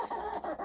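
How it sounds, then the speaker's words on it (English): Arnold, a backyard rooster, gives a few short soft clucking calls in quick succession, fairly faint and close by. "That's Arnold the rooster."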